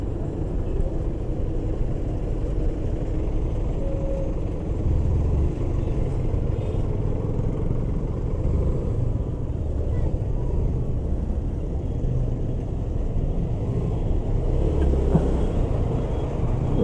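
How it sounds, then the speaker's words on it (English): Yamaha FZ motorcycle engine droning steadily while riding, a continuous low rumble with wind noise that holds an even level throughout, the bike cutting into tight corners. "It's like you just need to turn up the throttle and the bike is ready to go."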